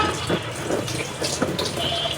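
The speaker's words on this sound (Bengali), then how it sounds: "সামান্য পরিমাণে একটু পানি দিয়ে দিলাম, হাত ধোয়ার পানিটা।" A small splash of water, the leftover hand-rinsing water, is poured into a large pot of marinated beef curry, a brief trickling pour that sits close to the microphone over steady background noise.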